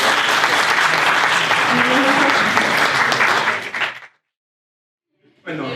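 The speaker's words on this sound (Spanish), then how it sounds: "Un fuerte aplauso para él" Audience applause for a speaker introduced as a technology professor at a lecture event in Peru, a loud sustained wash of many hands clapping for about four seconds, cutting off abruptly into silence before another burst starts at the end.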